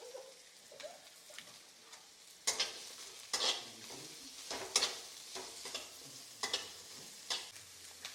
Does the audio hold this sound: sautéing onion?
yes